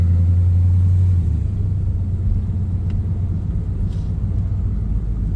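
A 1969 Camaro Super Sport's engine rumbles deep and loud up close as the car pulls away, a steady heavy drone that settles slightly after the first second, with no voices.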